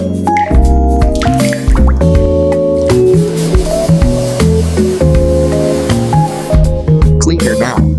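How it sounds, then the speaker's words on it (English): Pressurised water sprays onto a dirty BMW E36 car body, a loud continuous hiss broken by splashes and drips throughout, with tonal clanking layered in. "First, we wash away years of dirt."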